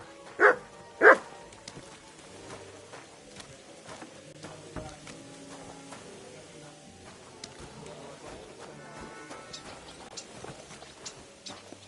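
Dog in the medieval video game Kingdom Come: Deliverance II lets out two loud barks close by, followed by quieter game ambience with scattered faint noises.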